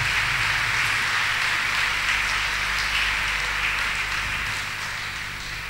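Loud, sustained applause from a church congregation at a Corpus Christi Solemnity Mass on Father's Day, a dense steady clatter of many clapping hands that fills the whole clip and tapers slightly at the end.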